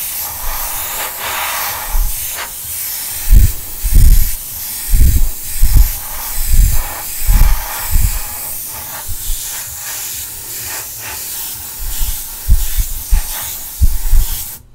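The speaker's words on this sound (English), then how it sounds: "As I'm spraying in there, the air is hitting the top and bouncing back out, dragging the paint with it" Spray paint hissing in repeated short bursts into the body of a Tamiya Volvo FH12 1/14 scale RC truck model, each puff close and fairly loud with brief gaps between, no voices.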